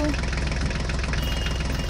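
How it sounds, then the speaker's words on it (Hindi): A mini tractor engine drives out of mud with a steady, chugging, knocking mid-pitched drone, loud and continuous throughout. "चलो चलो ड्राइवर, हमारी मिनी ट्रैक्टर को यहाँ ध्यान से लेकर आना"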